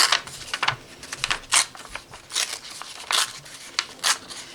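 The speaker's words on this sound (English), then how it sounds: "I'm just going to make a nice little pattern of ripping here" Paper is torn by hand in short bursts for a vintage key tag, a series of close, crisp ripping sounds spaced irregularly with brief quiet gaps.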